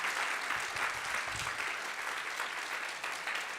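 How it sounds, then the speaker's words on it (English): An audience at a high school band and orchestra fall concert applauds the orchestra students, producing a steady, dense wash of clapping that holds at an even level for several seconds. "Let's give them a round of applause."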